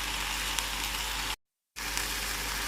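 Lotus root and long beans stir-frying in a pan, a steady loud sizzle with faint scraping, broken by a short silent gap midway before the frying resumes.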